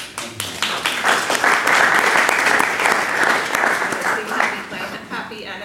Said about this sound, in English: I'd like to give them a clap.